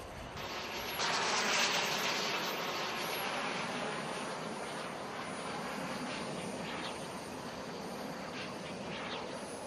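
A radio-controlled Eagle Jet F-86 with a KingTech K-170 turbine flies at an RC jet rally, giving a steady, loud, broadband turbine roar that swells briefly as it passes and then holds on, with no talk over it.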